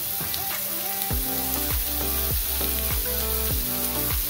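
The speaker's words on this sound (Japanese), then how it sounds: "お肉に焦げ目がつくくらいまで炒めます" Jidori chicken meat sizzles steadily while frying in a pan, a continuous loud crackle with repeated metallic scrapes and taps as it is stirred.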